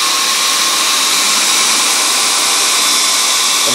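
A homemade 2x72 belt grinder runs at full speed, giving a steady, loud broadband whine and rush that holds evenly throughout, with no voices.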